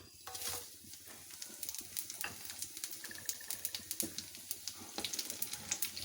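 Soft crackling and popping of spices frying in hot oil for karhi pakora, irregular small bursts over a low background hiss, fairly quiet and close.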